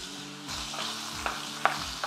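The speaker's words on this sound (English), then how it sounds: "I will add some chopped smoked sausage" Chopped smoked sausage browns in a pan for Creole gumbo, giving a steady close sizzle with soft stirring scrapes and a sharper clink near the end, and no voices.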